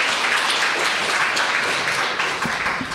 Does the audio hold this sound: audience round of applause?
yes